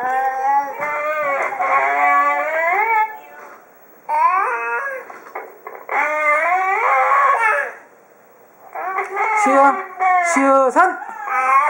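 A young child imitates a dog, voicing drawn-out howling, yipping woofs in several sung phrases with short pauses between them, close and loud.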